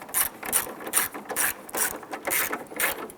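A ratchet clicks in quick repeated bursts, close and crisp, while snugging down screws that hold the headlight plastic on a 1995-2001 Ford Explorer.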